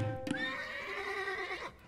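A single horse in Age of Empires 2 lets out a clear, fairly close whinny that rises and trembles for about a second and a half before trailing off.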